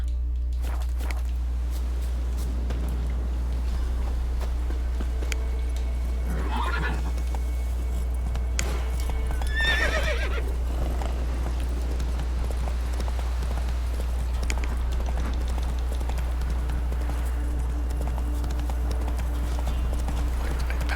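Horse hooves clip-clop at a steady walking pace over a constant low hum in the video game Witcher 3, with a couple of brief whinny-like calls in the middle.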